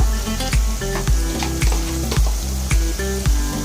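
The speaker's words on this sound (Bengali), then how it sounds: "তিরিশ সেকেন্ডের মধ্যে একটু ভেজে নেব" Onion frying in oil with ginger and garlic paste sizzles steadily while a utensil stirs and scrapes the pan in repeated rhythmic strokes, close and clear with no talking.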